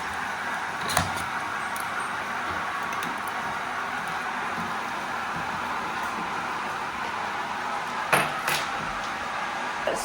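A kettle heating up gives a steady, fairly loud hissing rush with a low rumble that runs unbroken through the whole stretch, broken only by a couple of brief knocks near the start and around the eight-second mark.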